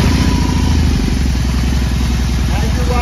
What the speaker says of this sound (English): So if we fire this bike up,